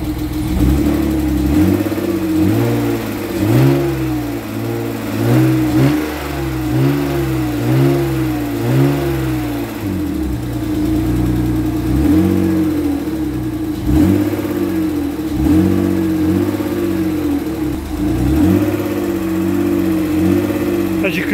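A BMW E30 car engine runs close by, revving up and down repeatedly in rhythmic bursts over a steady idle after a fuel relay replacement, with someone talking over it.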